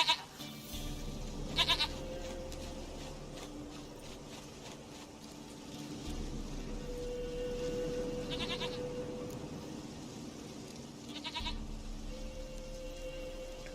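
Goat bleating in The Witcher 3, a few short nasal bleats rising over a steady low game ambience with soft background music, fairly close and moderately loud.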